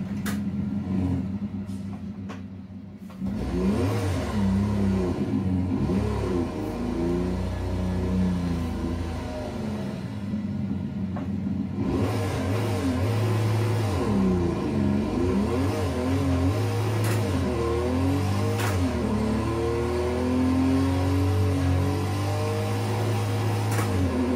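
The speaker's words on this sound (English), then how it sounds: "that was a pretty nice hard acceleration and then a hard braking" A simulated racing car in a sim racing game accelerates hard and then brakes, a rising, wavering engine whine that climbs and falls through the gears over a steady drone, with a brief quiet stretch near the start.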